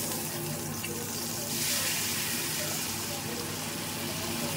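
Onion, ginger, garlic and tomato paste frying in hot oil in a kadai, giving a dense, continuous close sizzle and hiss that swells a little partway through, with faint voices in the background.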